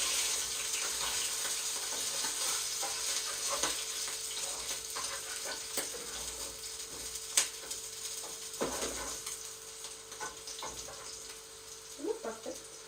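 Homemade Chinese beef dumplings fry in a pan with a soft, steady sizzle and a few sharp pops and clinks of utensils, faint and continuous throughout.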